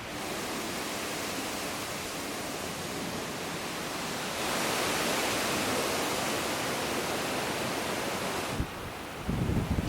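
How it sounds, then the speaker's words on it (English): Strong wind rushes through trees in a broad, steady roar like ocean surf, swelling louder partway through and dipping near the end, with a few gusty bumps against the microphone. "It's so windy that the trees actually sound like waves by the ocean."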